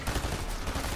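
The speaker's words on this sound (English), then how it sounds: "It's my captain's pistol." A captain's pistol fires in a video game, giving a dense one-second burst of loud gunfire with rapid overlapping reports and no talk.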